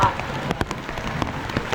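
Rain falls steadily on a surface during an outdoor religious gathering, a dense patter with scattered louder drops, fairly loud and continuous.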